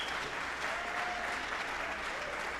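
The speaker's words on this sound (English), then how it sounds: "Yeah, give them another round of applause." Quiet but continuous audience applause for a school wind ensemble at a spring band concert, heard as an even wash of clapping from a distance with no clear pauses.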